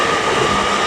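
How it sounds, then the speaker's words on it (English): An LNER Azuma, unit 800-108, departs York, a short, loud, steady rush of rolling train noise close by. "now departing is 1 Echo 13, which is the LNER Azuma service to London King's Cross, operated by 800-108"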